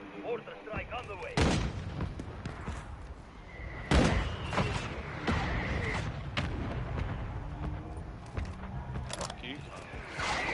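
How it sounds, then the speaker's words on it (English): Mortar strikes in a Warzone video game land as several sharp, booming explosions spread irregularly through the clip, mixed with gunfire cracks and game voice callouts. "Mortar strike on the way."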